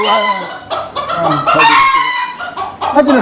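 Native chickens clucking loudly and a rooster crowing close by at a farm, the calls overlapping in a busy flurry.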